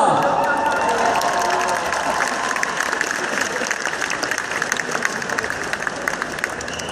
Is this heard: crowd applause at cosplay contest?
yes